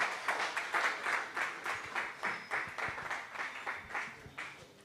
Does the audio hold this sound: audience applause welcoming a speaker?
yes